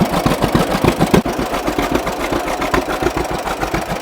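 A 1941 John Deere Model B tractor engine with a new carburetor runs loud and close, its two-cylinder beat steady and rhythmic with occasional popping, and no voices.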